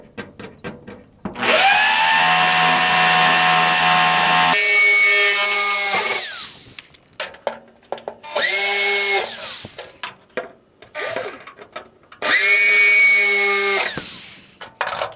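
A power drill whines loudly through the wooden ribs of a boat, drilling near-horizontal holes in several long bursts, stopping and starting with short pauses between runs.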